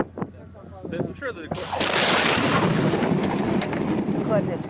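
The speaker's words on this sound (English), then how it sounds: "that is one viewer's perspective video showing the moment of the explosion" A fertilizer plant explosion in the town of West erupts as a sudden, massive blast after a few faint knocks and sounds, then swells into a loud, sustained roar and rumble that fills the rest of the moment.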